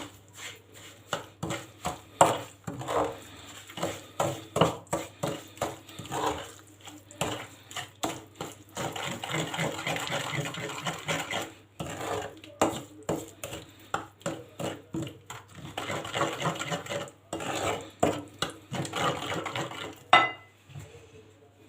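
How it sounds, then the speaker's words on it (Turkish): Cookie dough's liquid ingredients, with grated orange zest, stirred in a bowl by hand, giving a steady run of soft scraping and clinking spoon strokes against the bowl, fairly close and unbroken by talk. "Önce sıvı malzemelerimi şöyle bir karıştırıyorum."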